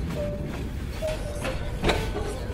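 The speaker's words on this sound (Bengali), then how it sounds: "সরারচর রেলওয়ে স্টেশন থেকে চলে গেল আন্তনগর কিশোরগঞ্জ এক্সপ্রেস" Kishoregonj Express intercity train at Sararchar railway station, a steady low rumble of rolling cars with faint rail squeals and a brief louder clank, heard nearby with no talk.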